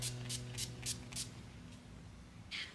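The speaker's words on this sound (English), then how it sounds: "NYX setting spray." Five quick hissing spritzes of a NYX makeup setting spray bottle in an even rhythm, a pause, then one more spritz, close and clear.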